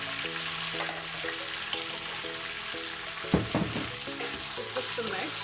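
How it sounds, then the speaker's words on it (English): Chopped onions and pepper frying in a pan for chickpea and paneer biryani, a steady close sizzle with a few scraping stirs of a spoon partway through, no talking. "Just giving this a good mix."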